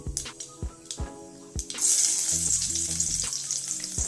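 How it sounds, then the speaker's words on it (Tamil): Mustard seeds splutter in hot oil, first as a few sharp pops at a steady beat, then giving way to a loud, continuous bright sizzle. Some faint tonal background sits underneath. "கடுகு பொரிஞ்சு வந்துட்டு இருக்குது"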